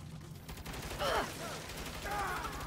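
Rapid turret gunfire bursts in the Saints Row video game, a dense rattling volley loud over busy game noise and background music, continuing through the clip with a second burst later.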